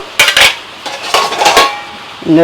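Plates and dishes clatter as they are handled and lifted from the lower rack of a home dishwasher, with several sharp clinks and scrapes of ceramic and metal, close and fairly loud.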